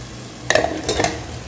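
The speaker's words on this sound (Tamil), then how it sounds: "இந்த கறியை போட்டுடலாம் நண்பா" Cooked mutton is added with a ladle to a pot with ghee while making wedding-style mutton dum biryani. Two quick metallic scrapes and clinks of the spoon against the pot sound close, with a faint sizzle underneath.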